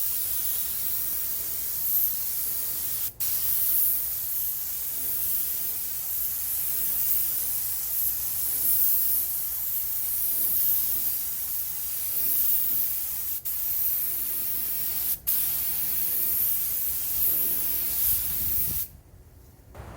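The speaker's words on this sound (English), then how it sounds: "I'm gonna go ahead and prime it now." A Harbor Freight paint gun sprays primer onto a truck bed topper in a continuous, loud hiss that runs nearly unbroken, with a few brief pauses before it cuts off near the end.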